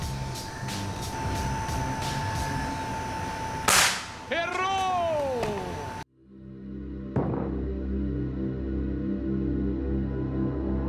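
An air gun fires a pellet at a knife blade set up as a target, giving one sharp crack mid-clip that rings with a metallic tone, followed after a pause by a second faint tick from the pellet landing nearby.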